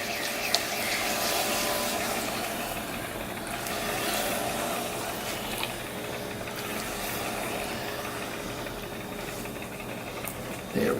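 Wet clay wedged on a spinning pottery wheel with water, a steady watery swishing and sloshing over the wheel's low hum, continuous and close with no talk.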